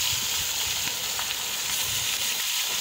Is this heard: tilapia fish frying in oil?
yes